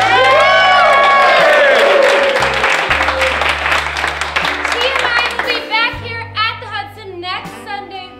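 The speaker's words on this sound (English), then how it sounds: "another huge round of applause for our amazing host, Miss Stephanie Drake!" A studio audience claps and cheers loudly throughout at a Hollywood entertainment show's closing, with whoops over steady music.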